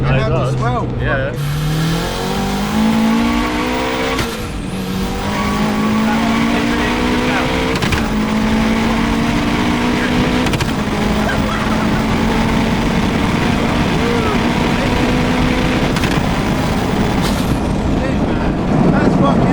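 A 430 hp turbocharged Mini Cooper accelerates hard and loud from close up, its engine note climbing through several gears with abrupt flat shifts and turbo bursts between them, while people talk over it.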